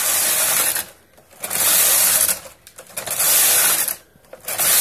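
A Brother punch card knitting machine, non-electronic and set with a 2x2 punch card, has its carriage pushed across a row, giving loud mechanical clattering swishes in three passes separated by brief lulls.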